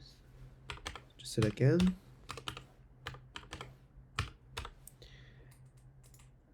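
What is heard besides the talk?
typing a password on a computer keyboard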